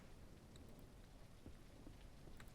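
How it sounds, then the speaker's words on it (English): Steady rain hisses over the ranch in the Ranch Simulator video game, a faint, even wash of patter with no voices. "I can hear rain, but I don't see rain"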